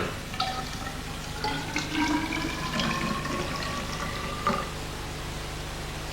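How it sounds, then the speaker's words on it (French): Coloured water is poured into a vessel holding carbon tetrachloride, giving a soft, close trickle and gurgle with a few small splashes over several seconds, fairly quiet with no talking. "Ajoutons ensuite du tétrachlorure de carbone. Ensuite de l'eau colorée."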